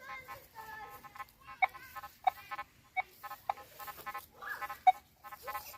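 Short electronic beeping tones from a Nokta Makro Legend metal detector searching a rubbish dump, irregular and clipped, popping up one after another against a quiet background.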